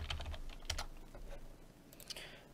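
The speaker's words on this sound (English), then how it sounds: "we want to type in that enumerator that we've done for our armor type" A few quick keystrokes on a computer keyboard while entering values in Unreal Engine 4, close and quiet, in short clustered bursts with brief pauses and no talking.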